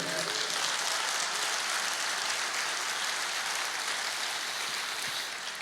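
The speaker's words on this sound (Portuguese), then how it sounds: "Você pode aplaudir o Senhor?" A church congregation claps in a steady, even wash of applause that holds for several seconds without a break and sounds like many hands filling the room.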